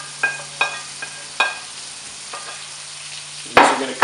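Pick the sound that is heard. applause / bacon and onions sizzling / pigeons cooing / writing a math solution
bacon and onions sizzling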